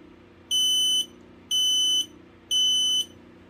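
A talking smoke alarm on test gives three piercing, evenly spaced beeps, each about half a second long and very close. Nothing else is heard in the gaps but a low background hum.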